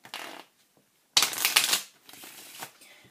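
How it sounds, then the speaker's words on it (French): A deck of playing cards being shuffled by hand for a card trick, heard as three separate riffling bursts, the middle one loudest and closest, with short pauses between them. "vous allez demander pour commencer aux spectateurs de mélanger le paquet"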